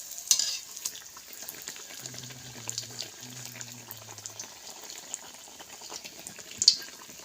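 Pitha made from semolina and flour fries in oil with a soft, steady sizzle, fairly faint and close, broken by a couple of brief clinks and a low humming tone partway through.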